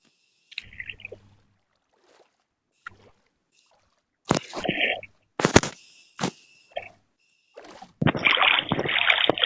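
Wooden boat rowing across water in the Minecraft video game, heard as short paddle splashes and sloshes in separate bursts, ending in a longer continuous wash of water.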